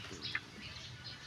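A couple of quick, high bird chirps against a quiet outdoor background, with no talking.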